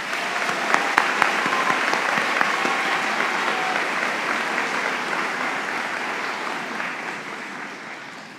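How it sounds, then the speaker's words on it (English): A large crowd at the Montgomery County Community College 2024 commencement applauds the faculty with sustained, full clapping that stays strong for several seconds before gradually tapering off near the end. "Please join me in a round of applause for all the faculty who have supported and"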